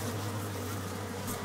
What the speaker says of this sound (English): Less than 5 minutes later, another yellow hornet appears.